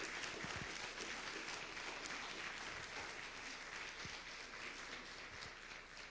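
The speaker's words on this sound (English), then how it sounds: "We'll give them a round of applause." A crowd claps steadily in sustained applause, dense and even, holding at a moderate level with no voices standing out.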